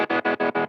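Guitar played through a Strymon Flint pedal's tremolo and reverb, a sustained chord chopped into five even, rapid pulses of rising and falling volume.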